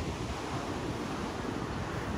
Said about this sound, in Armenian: Ձրի խշխշոցը ինչ խավեսով լսվում է։